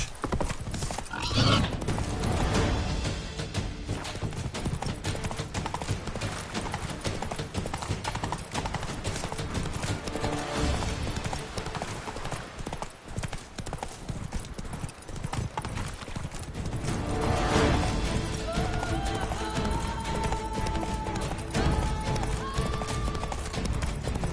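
Geralt's horse Roach galloping in the video game The Witcher 3, a steady close rhythm of hoofbeats running throughout, with a whinny near the start and music under the hooves.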